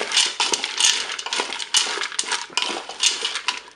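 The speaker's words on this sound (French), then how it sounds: "Maintenant je peux déposer mes pommes de terre rissolées qui sont congelées" Frozen rissolé potatoes stirred in a cooking pot, a busy close-up clatter of hard chunks knocking and scraping against metal in quick irregular bursts.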